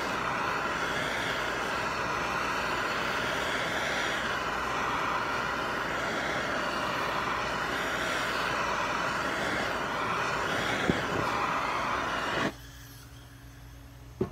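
A gas torch roars steadily and close at hand while heating 6061 aluminum to anneal it, a broad, constant rushing flame noise that cuts off abruptly near the end, leaving quiet.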